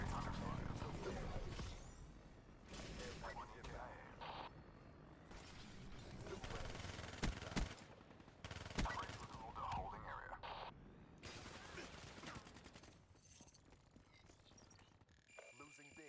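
Black Ops 3 multiplayer combat: bursts of gunfire and crashing impacts from the match, loud and busy, mixed under game announcer voice lines and background effects.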